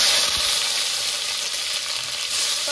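Chopped tomato sizzling in a pan of hot oil with dried red chillies, whole cumin and bay leaves, a dense, steady crackling hiss held close and loud throughout, with no voices.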